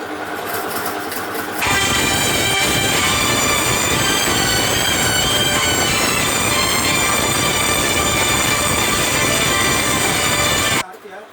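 A hot engine in a Global Petro America oil endurance test takes its second load, the steady roar jumping abruptly louder and harsher with a rough, grinding clatter, holding for several seconds before cutting off near the end.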